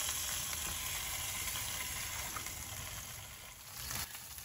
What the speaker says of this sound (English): listen to the beautiful sizzle as the grease and fat drips down from these onto that hot plate below